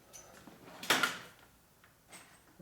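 A drawer slides open in a home garage during a search through tools, one short rough scrape around the middle, fairly quiet against a faint background with no talking.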